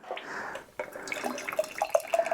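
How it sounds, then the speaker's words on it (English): Beer poured into a glass from a bottle and then from a can, giving a steady close liquid splash and gurgle that builds into bright bubbly fizzing and dripping toward the end, with no talk. "I'm gonna pour myself a little bit from the bottle and a little bit from the can"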